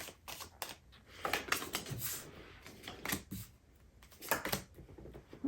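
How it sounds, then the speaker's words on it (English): Tarot cards are shuffled and drawn during a reading, giving a quiet run of riffling flicks and papery slaps in irregular bursts, close up, with no talking. "We're going to go ahead and pull some cards for your energies here."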